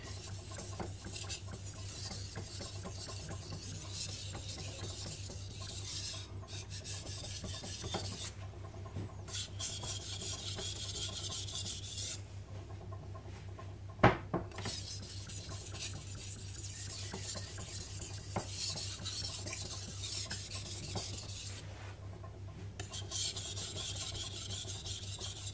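A VG10 steel knife blade is drawn back and forth across a whetstone in steady, continuous rasping strokes, close and even, with a few brief pauses between passes and no voices.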